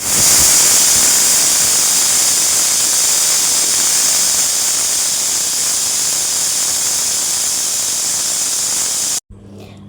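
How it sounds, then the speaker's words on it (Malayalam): A pressure cooker whistle lets out a loud, continuous steam hiss for several seconds with no change in pitch, then cuts off abruptly near the end. "അങ്ങനെ കുക്കർ ആവി വിസിൽ വന്നതിന് ശേഷം"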